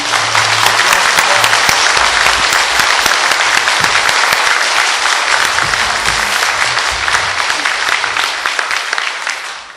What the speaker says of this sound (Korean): 여러분 큰 박수로서 이 두 분의 후보자들에게 기 한 불어넣어 주십시오